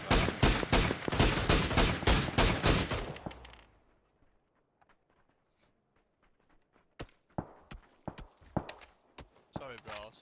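Heavy bursts of video game gunfire fill the first three seconds, loud and rapid. After a near-silent gap, scattered sharp shots and footstep-like clicks return at a distance.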